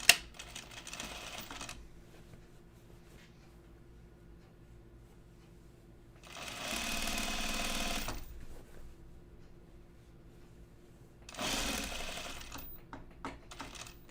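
A home sewing machine stitches denim jeans in two short, fast bursts of whirring needle action, each a couple of seconds long, separated by quiet pauses with faint background hum.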